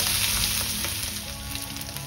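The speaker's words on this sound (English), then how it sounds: "So just let it saute a bit and just let them cook a bit" Onions and aromatics sauté in a pan as the base for a spicy Thai-style pumpkin soup, giving a steady, close sizzle with faint crackles and no talking.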